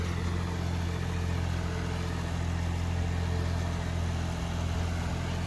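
John Deere 5060 E tractor engine pulling an 8-foot Landforce superseeder, a steady, loud, unbroken drone with no dip in revs, heard close and alone.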